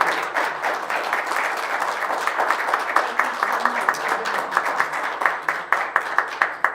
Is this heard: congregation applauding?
yes